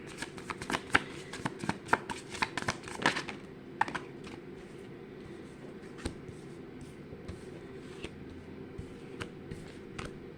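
Playing cards are shuffled, a dense flurry of crisp riffling clicks at first, then scattered softer taps as the shuffling slows.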